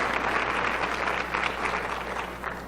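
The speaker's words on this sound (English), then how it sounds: "So please give them all a round of applause" Audience applause at an academic nursing research conference, a steady roomful of clapping that holds evenly and tapers slightly toward the end.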